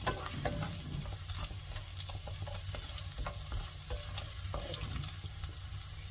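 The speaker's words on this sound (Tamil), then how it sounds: "எண்ணெயிலே அந்த இஞ்சி கொஞ்சம் நேரம் அப்படியே விட்டுருங்க." Ginger frying in oil in a pan for tomato thokku gives a steady close sizzle with soft stirring scrapes, continuous and alone for about six seconds.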